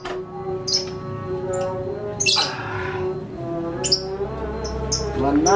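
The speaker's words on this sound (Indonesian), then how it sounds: "Mana burung ini aja?" Loud, harsh bird squawks repeated at irregular intervals, close by, over a steady background drone.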